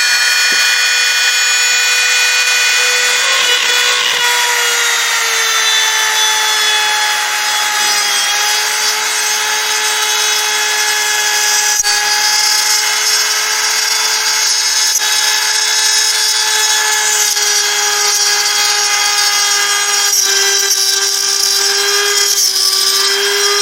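High-pitched whine of a Ryobi RRT200 rotary tool drilling into wood, steady and loud, with slight shifts in pitch as it grinds on.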